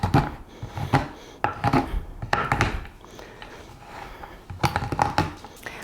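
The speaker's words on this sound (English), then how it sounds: "So I'm just going to chop this up real quick" A knife chops through chocolate for paleo fudge bars, a quick series of close, sharp chopping thunks against a board, irregular in rhythm with short pauses and softer scraping between strikes.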